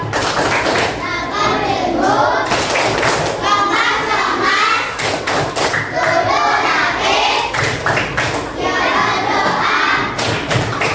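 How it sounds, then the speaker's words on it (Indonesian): Schoolchildren in a classroom clap their hands together in a lively group, with rhythmic clapping, thumps and children's voices mixed in at close, loud range throughout. "oke tepuk tangan untuk kita semua. Sekarang kita tepuk ulang."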